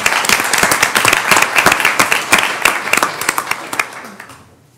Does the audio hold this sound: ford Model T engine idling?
no